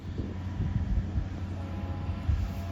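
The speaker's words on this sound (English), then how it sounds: "it sounds like I'm going to actually get to see the tram. It's coming down." Low, rumbling mechanical drone of a mountain cog railway train rolling past on Mount Washington, New Hampshire, steady and moderately loud with faint clanks, no voices.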